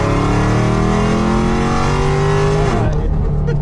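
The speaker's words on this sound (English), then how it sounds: "This is a Challenger. It's a Challenger Red Eye 2019." A 2019 Dodge Challenger Red Eye roars loud and close, its engine note climbing steadily as it revs hard, then cutting off abruptly near the end.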